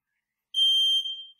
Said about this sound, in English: Ah, it's a smoke alarm.